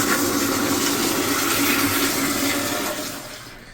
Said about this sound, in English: Flush this here.